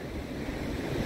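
Sea surf washing onto a sandy beach with a gentle entry on the coast at Alanya, Turkey: a steady broadband wash of breaking waves close by, mixed with some wind noise, with no voices.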